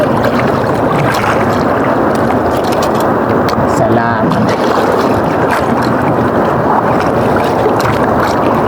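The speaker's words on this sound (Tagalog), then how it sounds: "napakagalaw ng dagat mahangin kasi tapos salubong pa sa hangin yung agos kaya magalaw yung dagat" Rough sea churning with steady wind noise buffeting the microphone, a continuous wash of water and gusts, with a brief spoken word partway through.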